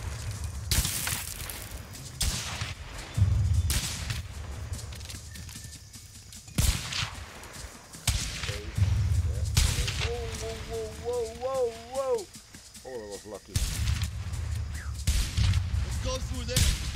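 Gunfire in the video game A Way Out cracks out in bursts amid loud action noise, with frantic talk and game dialogue running over much of it.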